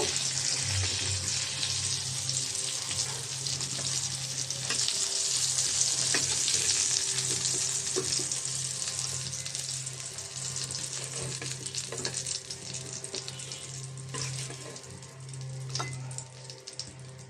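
Eggplant slices frying in hot oil, a continuous close, bright crackling sizzle with a low steady hum beneath and occasional faint clicks; no one speaks.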